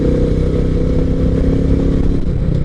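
A Royal Enfield Meteor motorcycle is ridden on the road at a steady pace, its loud, continuous low engine thrum heard close up with constant wind rush.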